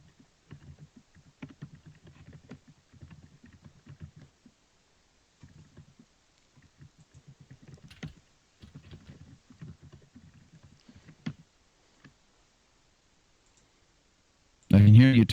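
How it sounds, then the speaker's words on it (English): Soft, intermittent clicking of a computer keyboard being typed on during an online call, in short bursts separated by pauses, with a louder noise at the very end. "I can hear you typing, Maya."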